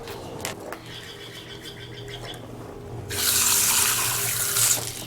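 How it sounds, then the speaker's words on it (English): Running tap water gushes steadily into a sink as junk is rinsed off a reef tank internal filter, starting suddenly after some quiet handling noises and staying loud and close. "Let's rinse this junk off of here."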